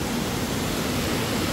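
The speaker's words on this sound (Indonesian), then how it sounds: "Kuat juga air terjun dia." Roaring rush of the waterfall at Lata Berangin in Kuala Krai, Kelantan, a dense, steady broadband wash of falling water, loud and continuous without any voices.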